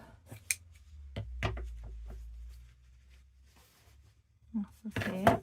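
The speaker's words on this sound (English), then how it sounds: "Just cut a strip" Scissors snip through a strip of fabric for a journaling card, a few quick close cuts followed by rustling handling, with brief speech near the end.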